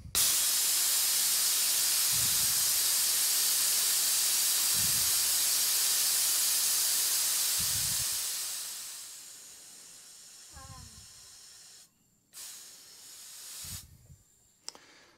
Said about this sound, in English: So I'm going to release some pressure, and at the same time I'm going to screw this all the way in.